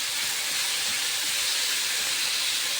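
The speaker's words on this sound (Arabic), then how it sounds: "هنبدأ نقلب اللحمة كده" Meat sears in a pot while being stirred, making a loud, continuous close-up hiss of sizzling with no distinct pops, and no one speaks.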